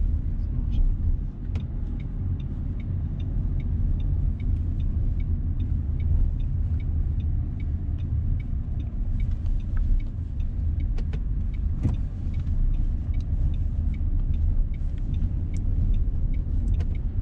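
A car during a driving test rolls along with a steady low engine and road rumble from inside the cabin, while people talk throughout.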